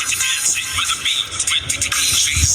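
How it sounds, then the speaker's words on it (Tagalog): Thin, bright, treble-heavy sound from a videoke tweeter speaker driven by an amplifier at full volume, with almost no bass, fluctuating and hissy, played fairly close and alone. "rinig nyo na rinig nyo na yung tunog ng twitter"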